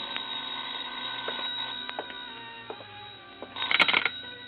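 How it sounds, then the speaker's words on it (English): A telephone rings as a sound effect in an old-time radio detective drama, a faint electric bell burst under a low background hum and crackle, growing louder toward the end. "I was about to go downstairs when the phone rang"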